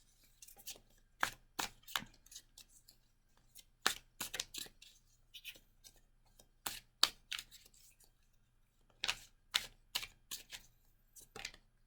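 Crisp riffling bursts of tarot cards being shuffled close by, coming in short irregular clusters separated by quiet pauses.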